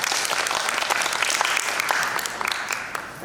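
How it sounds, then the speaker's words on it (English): Audience applause at the Thailand Public Speaking Competition 2025, a steady, dense clapping that fills the room and holds at an even, loud level from start to end. "Please give him a good round of applause."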